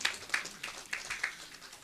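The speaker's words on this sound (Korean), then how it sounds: "박수 한번 더 부탁드리겠습니다." Audience applauding after a vocalist's performance at the opening ceremony of a peace forum in Jeju, heard as a moderate spattering of claps with uneven bursts across the room, faint and brief.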